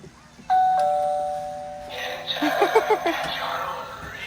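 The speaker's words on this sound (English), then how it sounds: "ring the doorbell" A two-tone doorbell chime rings clearly, its tones sustaining and fading, followed by excited voices and laughter from a small group of trick-or-treaters nearby on Halloween.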